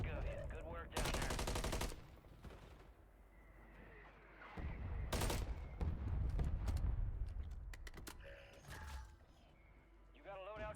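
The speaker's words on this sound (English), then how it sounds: "Someone else shooting from this side." Video game gunfire crackles in loud automatic bursts and single shots between quieter stretches, with a rumbling mix of combat noise that is heard alongside voices talking.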